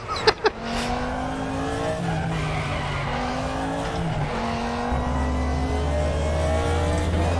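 A 1992 Audi DTM race car at the Norisring in the RaceRoom racing game, its engine holding a loud, steady, high drone with pitch shifts as it changes gear, after two sharp clicks at the start.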